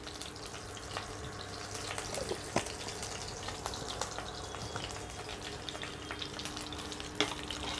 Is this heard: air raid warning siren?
no